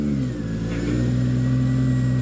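A Nissan S14 engine catches and settles into a loud, steady idle with a strong low harmonic hum, close to the microphone.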